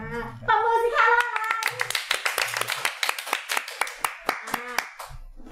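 A small group claps to welcome a doctor at a regional health center. A brief voice comes first, then a run of quick, fairly loud hand claps follows in a close, sharp rhythm.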